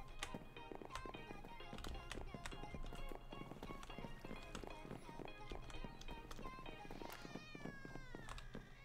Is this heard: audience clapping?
no